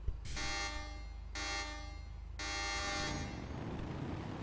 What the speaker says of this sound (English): On the third honk, we're gonna go.